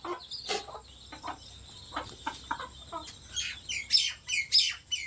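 Several village chickens cluck and chirp close by in short, irregular bursts, with higher squawks toward the end over a quiet background.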